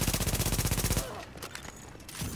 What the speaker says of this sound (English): they shot me from down there